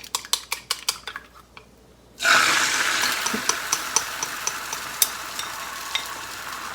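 Egg mixture hits a hot pan oiled with vegetable oil on medium heat and bursts into a loud, steady sizzle. Regular light clicks of utensil against pan come before the pour and continue through the frying.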